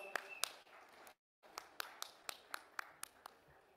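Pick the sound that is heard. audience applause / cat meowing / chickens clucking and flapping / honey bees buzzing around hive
audience applause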